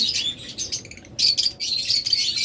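Caged farm birds, including lovebirds, cockatiels and budgerigars, chirp in bursts of bright, overlapping tweets and squawks. The chatter is close and busy, with brief gaps, and no voices are heard.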